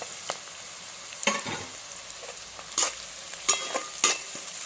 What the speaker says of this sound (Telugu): అట్లా ఒకసారి ఉల్లిపాయలను వేగనివ్వండి.